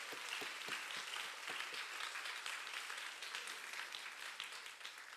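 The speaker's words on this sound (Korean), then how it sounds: "우리 박수로 하나님께 영광 드리겠습니다." A church congregation in Incheon applauds to glorify God during a Sunday sermon, a sustained, even roar of many hands clapping at moderate distance, with no speech.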